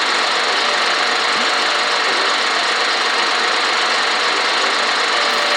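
A tractor engine from the Farming Simulator 2014 mobile game drones steadily, a dense continuous rumble with a slight knock that stays loud and unchanging throughout, with no speech.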